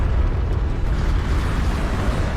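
In the Homeworld strategy game, a nuke strikes a carrier and sets off a heavy, sustained explosive roar. The low rumble stays loud and unbroken from start to finish.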